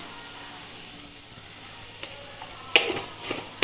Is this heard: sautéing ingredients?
yes